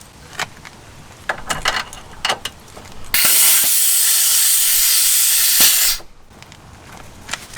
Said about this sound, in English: Let's get our air hose hooked up.